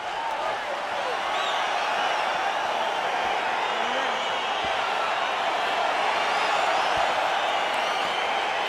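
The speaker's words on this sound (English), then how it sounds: "crowd getting excited as this fight gets underway" A steady, dense arena crowd roars and cheers inside a UFC 4 mixed martial arts video game as a fight begins, a continuous wash of noise that holds at an even level throughout.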